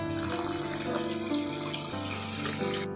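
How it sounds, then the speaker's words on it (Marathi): Water poured from a vessel onto 600 grams of sugar for gulab jamun syrup, a steady close splashing pour lasting about three seconds before stopping. "आता त्यात पाणी टाकायचं आहे"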